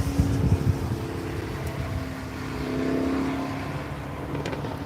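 A four-cylinder Chevrolet Camaro drives on a wet skid pad, its engine a steady, moderately loud drone that swells slightly in the middle of the run, with no talking.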